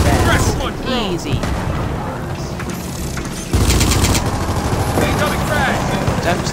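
Gunfire in Gears of War 4, bursts of rapid automatic shots and heavy booming blasts in a chaotic battle, loud and close, with a sharp louder barrage midway and voices talking under the shooting.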